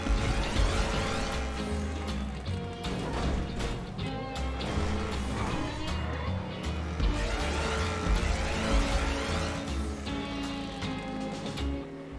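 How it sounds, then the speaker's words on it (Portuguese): A car in GTA V slides across snow with tire noise and a revving engine, loud and busy, with the sound surging and fading repeatedly across the clip. "Ai, mas o carro aqui ele derrapa, gente. Muita neve."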